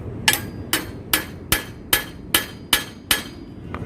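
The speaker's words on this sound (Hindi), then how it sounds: "क्वार्टर पिन को इस तरीके से बिठाकर हम हैमर से ठोक लेंगे" Eight sharp, evenly spaced hammer taps driving a pin into a bicycle bottom bracket, each a crisp close metallic strike with a quick decay, in a steady rhythm and no talking.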